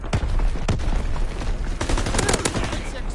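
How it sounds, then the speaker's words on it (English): Primary battery guns fire in a WW2 naval video game, loud booming shots crack out in quick bursts over a constant rumble of combat noise. "Firing primary battery."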